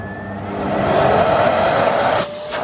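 A Dyson DC54 vacuum cleaner running without its filter roars loudly, its motor pitch rising as it spins up, with a brief dip and a rattle near the end.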